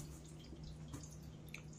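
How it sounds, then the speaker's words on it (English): A cat water fountain with a small filter trickles quietly indoors, giving soft steady dripping and light splashing at low volume with no voices. "It's like a cat water fountain. With a little filter in it."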